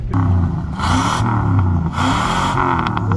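A Ford F-series truck drives along with a loud, continuous engine rumble and rising, whining gear and revving tones, plus bursts of rattling road noise; no talking.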